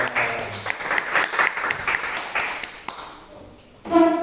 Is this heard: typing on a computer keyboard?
no